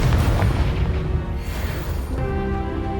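Confringo fire spell explosion in Hogwarts Legacy, a dense booming blast with crackling debris that fades into a lingering rumble under game music.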